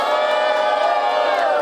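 A live crowd at an open-air rap battle in Rocinha roars and cheers loudly and continuously for a contestant, with shouts and whoops blending into a dense, steady wall of noise.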